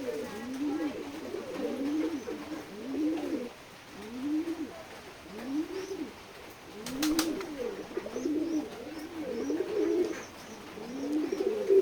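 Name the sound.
pigeons cooing at a farm after feeding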